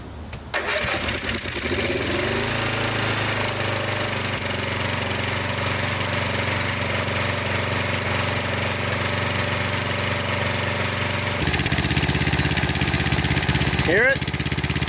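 A 1999 Snapper riding mower with a 10hp Briggs engine starts and then runs steadily nearby, a loud, continuous mechanical drone with a slight miss that shifts in pitch near the end.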